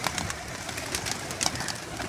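Pigeons coo and flutter close by in a rooftop loft, with repeated soft calls and rustling through the short stretch and no talking.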